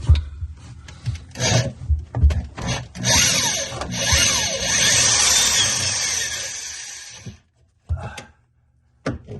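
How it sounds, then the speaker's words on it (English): Small 1/8 inch drill bit boring holes into a sailboat rudder shaft during packing gland repair, several short grinding bursts followed by a long steady drilling whine, then stopping, close and fairly loud with no talk. "Okay, I've got both holes drilled with a small bit"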